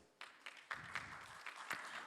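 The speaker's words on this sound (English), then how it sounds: "A big round of applause" An audience at an insurance summit and awards event applauding, a thin scatter of claps with a few sharper hits, faint and distant in a large hall.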